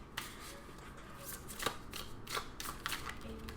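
Tarot cards shuffled by hand, a soft, quick riffling and flicking in irregular bursts, close but quiet, with no talking.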